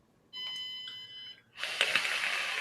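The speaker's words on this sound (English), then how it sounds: "look at that beeping. As my battery charger." A battery charger that has had tea spilled in it gives a short run of electronic beeps, followed by a brighter burst of noise, all fairly faint.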